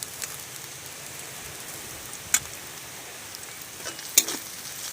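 Chopped ginger, garlic and green chilli fry in a pan for a lote fish chop, a soft steady sizzle with a couple of sharp stirring clicks against the pan, close and quiet, no voices.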